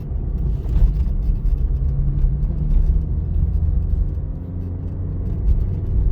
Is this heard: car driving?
yes